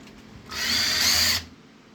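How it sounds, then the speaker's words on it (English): A power drill whirs loudly for about a second in a single burst, starting and stopping abruptly against a quiet background, driving a modified Harbor Freight tire changer. "I'm gonna squeeze this drill."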